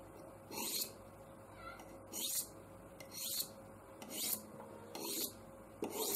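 A knife blade drawn along a Buck Edgetek Ultra Flipstik diamond sharpening rod at 750 medium grit: six or so evenly spaced rasping strokes, close and distinct, with quiet gaps between them.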